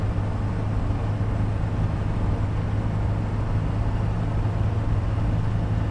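Mercedes W123 200d diesel with a manual gearbox accelerating up a hill, a steady, loud low engine drone mixed with broadband road and wind noise inside the car, with no talking.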